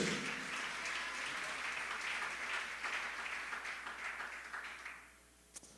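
A church congregation applauding steadily as a crowd for several seconds, the clapping fading out near the end.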